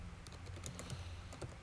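Quick, fairly faint clicks of keys being struck on a computer keyboard, several taps in an uneven rhythm over a low background hum.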